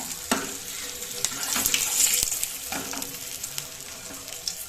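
Mackerel masala fry sizzling and crackling in a pan, a steady close hiss with occasional pops and stirring scrapes, no voices.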